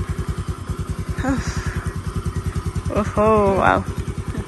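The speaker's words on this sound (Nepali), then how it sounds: "यो रसुले चाहिँ चलाउँदैछ स्कुटी" Scooter being ridden, its small engine putting out a fast, steady pulsing drone close by throughout, while a person exclaims briefly over it twice.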